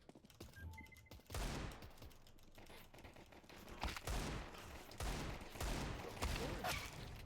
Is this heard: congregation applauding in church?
no